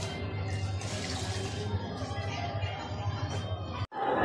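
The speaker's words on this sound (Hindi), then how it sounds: "अब मैं साफ पानी से इसे धो के रख दूंगी" Clean tap water running while containers are rinsed, a steady splashing flow into a sink that stops abruptly near the end, with some background voice under the water.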